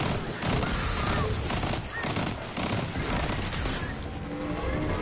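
Dense video game gunfire from several snipers, with rapid overlapping shots and booms forming a loud, continuous barrage.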